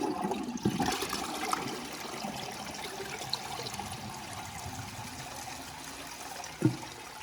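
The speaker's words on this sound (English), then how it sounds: "I'll let it push it out of the pipe once the tank fills up." A 2012 VitrA Evergreen toilet tank refills after a flush, giving a steady low hiss and trickle of running water throughout, with a faint clunk near the start and a brief louder knock toward the end.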